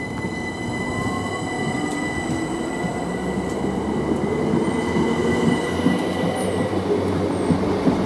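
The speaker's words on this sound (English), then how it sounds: "375 departs for Sturry to Canterbury to Ramsgate" A Southeastern Class 375 electric train pulls away from Canterbury West station bound for Ramsgate, its steady rolling rumble and hum close and continuous, with high wheel squeal and tonal whine on top.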